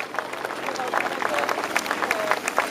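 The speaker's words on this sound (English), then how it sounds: "how about we have a huge round of applause there for my tableau riders" Crowd applause for the Royal Signals White Helmets motorcycle display team's tableau riders, scattered claps spreading, steady and moderately loud for a few seconds, with some voices mixed in.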